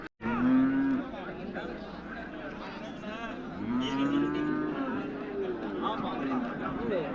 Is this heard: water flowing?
no